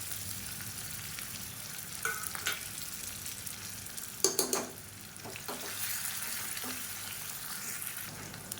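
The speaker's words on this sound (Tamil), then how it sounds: "இப்போ இது ரெண்டையுமே சேர்த்துக்கலாம். இந்த வெங்காயம் பூண்டு நல்லா செவந்து வரணும்." Small onions and whole unpeeled garlic cloves frying in oil in a pan for green gram sambar, with a steady sizzle throughout and a few stirring clinks and scrapes around the middle, no talking.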